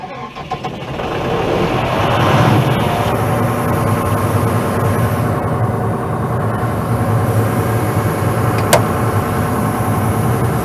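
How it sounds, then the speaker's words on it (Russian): An ET-Compressors SD-390T-10 diesel compressor engine starts up and settles into a steady, loud running drone that holds for about ten seconds. A voice speaks faintly beneath it. "Давайте запустим компрессор."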